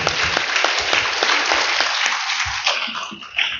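Audience applause for a children's play at a church mass, steady continuous clapping from a crowd throughout.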